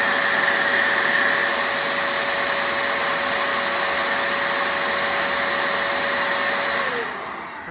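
A cordless or corded air duster with a stubby nozzle on its low setting blows a steady, loud hiss with a faint motor whine, running continuously for several seconds and then spinning down at the end.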